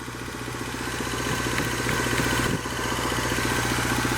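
A 1989 Ford Mustang engine idles steadily just after its first start in eight years, a continuous low rumble with a slight dip midway, running alone without talk as the engine runs hot.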